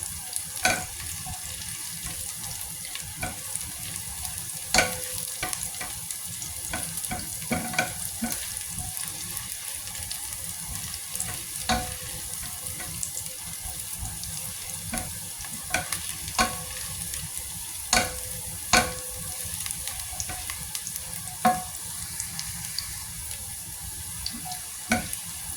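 Ginger and shallots fry in a pan with a steady broadband sizzle, stirred now and then with sharp utensil clicks and scrapes scattered through the clip; no voices.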